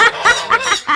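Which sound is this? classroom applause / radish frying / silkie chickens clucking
silkie chickens clucking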